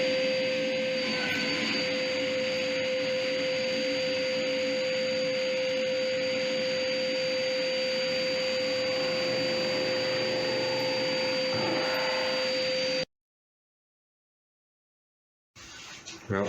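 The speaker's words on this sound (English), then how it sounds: "having my drum sander hooked up to my dust collector just makes such a difference" A drum sander running with a dust collector attached in a woodworking shop, a loud continuous roar and whine with a steady tonal hum that stops abruptly, then restarts briefly at the end.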